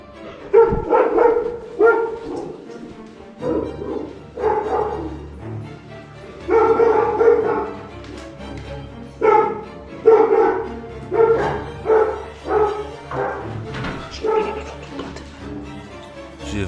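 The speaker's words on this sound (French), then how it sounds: "J'ai vraiment été surpris par ces deux molosses qui aboyaient et grognaient bien fort." Two huge dogs at an abandoned Italian villa bark and growl loudly and close by, in repeated bursts of deep barking that run throughout with brief pauses between them.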